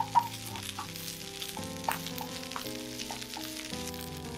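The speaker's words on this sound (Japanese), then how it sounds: "入れてさっと炒めます。" Bok choy and chikuwa are tossed in hot oil in a pan, producing a steady close frying sizzle with a few stirring clatters while sustained musical tones play underneath.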